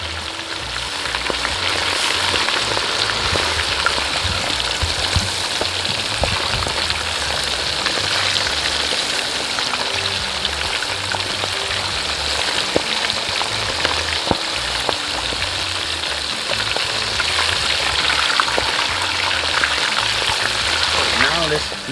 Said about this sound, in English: Let's flip it on the other side so we can fry it on the top too.